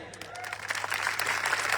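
Applause and clapping from a crowd at an outdoor political rally in Gujarat, a steady wash of many hands that swells slightly and holds for under two seconds, fairly distant and moderately loud.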